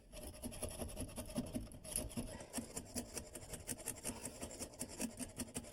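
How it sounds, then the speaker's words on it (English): A hacksaw blade cuts through a toilet closet bolt rusted on for about 30 years, giving a steady, close rasping saw stroke repeated in quick rhythm with no talking. "So I'm going to hold back with a pair of pliers and cut it with a hacksaw blade."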